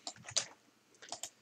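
Typing on a computer keyboard while entering code, a few quick soft key clicks in two small clusters, close but quiet.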